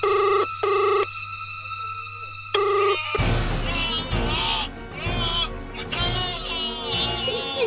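A telephone rings in a horror drama scene: two repeated electronic ring bursts, loud and alone, then speech and dramatic sound take over.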